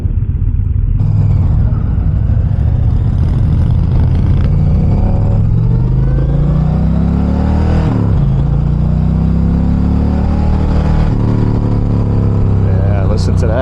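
An Indian Challenger Dark Horse motorcycle engine drones loud and close while riding, its pitch rising and falling as the throttle opens and eases, with steady wind rush underneath and no pauses.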